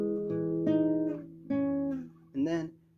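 Guitar playing the verse chord shape of a song moved up to another set of strings, a few picked chords strummed one after another, close and moderately quiet, ending in a short scraped strum.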